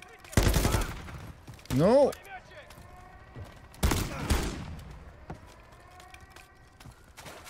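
Light machine gun fire in the video game Call of Duty: Modern Warfare III comes in two loud, rapid bursts separated by quieter game noise, with someone shouting a brief exclamation between them.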